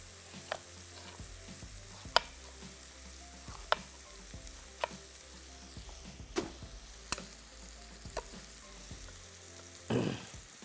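Chopped onions soften in a pan for a chicken dish, giving a quiet, continuous sizzle. Sparse sharp ticks and taps of stirring punctuate it, with a brief rougher burst near the end.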